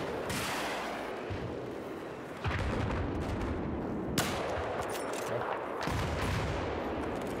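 Sniper rifle gunfire in the video game Battlefield 4 mixes with dense battlefield noise, including a few sharp shots that cut through a steady roar of distant firing; no talking.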